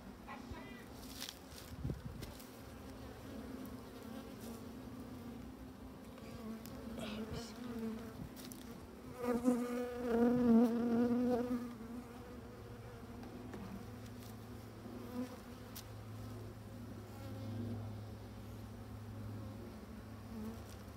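Honeybees from a colony founded in 2021 hum and buzz around their opened hive during a spring inspection. A dense, continuous drone swells louder midway, with faint rustling and handling noises nearby.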